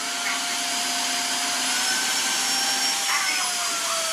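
Tineco Floor One S3 cordless floor washer vacuum running in turbo mode, a steady close high-pitched whirring motor hum with a sustained whine, shifting pitch slightly near the end.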